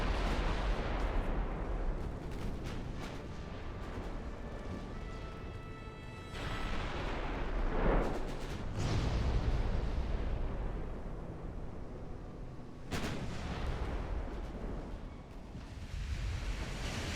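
Heavy naval gunfire from a battleship's 15-inch main guns in the naval warfare game Ultimate Admiral: Dreadnoughts, with booming blasts and rumbling reports over a continuous roar of sea and battle, including sharp salvos around the middle and near the end.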